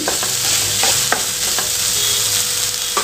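Tomatoes sizzle steadily in a hot frying pan for chicken curry while a spatula scrapes and clacks against it every so often as they're stirred until soft.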